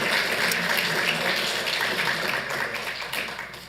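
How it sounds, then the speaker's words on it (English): Applause fills a city council meeting, a broad, steady wash of clapping from the chamber that holds at an even level for a few seconds before easing slightly toward the end. "Let's give them a round of applause as they go."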